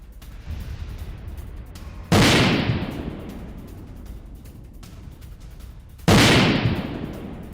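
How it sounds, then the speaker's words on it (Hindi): Two sharp, heavy blasts from an exploding Russian tank a few seconds apart, each booming loudly then fading into a rumbling decay, with crackling noise in between. "रूसी टैंक में हुआ जबरदस्त धमाका।"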